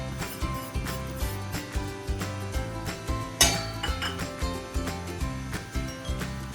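Vada flour and wheat flour are stirred in a metal cooking pot, the utensil clinking and tapping against the sides in a quick, regular rhythm that continues throughout at moderate volume.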